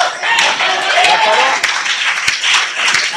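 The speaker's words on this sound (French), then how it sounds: "Est-ce que vous pouvez donner un applaudissement?" Congregation clapping during a church sermon, a broad wash of hands with scattered sharp individual claps, mixed with voices and calls from the crowd.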